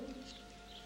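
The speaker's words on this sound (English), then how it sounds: "Devil take it if there ain't a bloomin' wood pigeon in my rhododendron." A wood pigeon coos softly from a rhododendron, a faint, low, hollow call lasting under a second against a quiet background.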